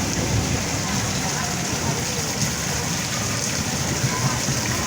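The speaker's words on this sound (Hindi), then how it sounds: "और अभी यहाँ जो है ये पानी बरस रहा है" Rain falls steadily and hard, a loud, unbroken wash of noise that holds constant from start to finish.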